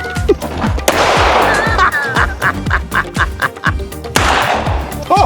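An S&W M&P Shield .380 EZ pistol fires a string of sharp, loud gunshots at an outdoor range in an uneven, fairly rapid rhythm, each crack ringing briefly, with voices heard at moments.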